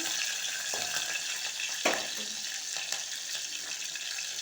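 Green chillies fry in hot oil in a home kitchen pan, producing a steady, fairly loud sizzling hiss with a few sharper pops and crackles, and no talking.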